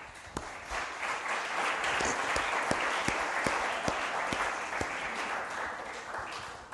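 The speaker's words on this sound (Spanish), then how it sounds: "Denle un aplauso a Dios." A church congregation applauds steadily, with a few sharper individual claps standing out in a loose rhythm over the broad wash of clapping.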